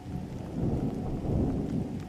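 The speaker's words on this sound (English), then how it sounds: "Thunder shook the windows and lightning lit the sky." Steady heavy rain with a low rolling rumble of thunder underneath, continuous and enveloping throughout.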